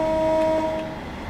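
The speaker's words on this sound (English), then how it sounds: "It's a beautiful, beautiful train. It sounds very good as well." A steady hum of a train running in the Train Sim World 2 game, with a sustained tonal drone and engine rumble at moderate level, fading slightly toward the end, no talk.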